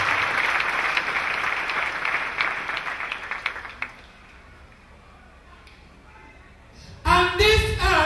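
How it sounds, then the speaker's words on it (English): Congregation at a church service claps for Jesus Christ, a loud dense burst of applause that fades out around four seconds, followed by quiet and then a sudden loud return of noise near the end. "Clap for Jesus Christ."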